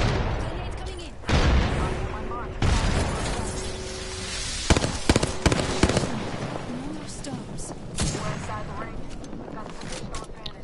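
Grenade blasts in an online shooter game crack and pop in several sharp bursts among scattered gunfire, while players talk excitedly over the action.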